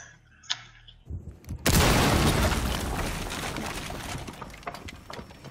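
A single heavy explosion in the Rainbow Six Siege video game goes off with a sudden boom after a quiet moment, followed by a long rumbling, crackling decay with scattered small pops.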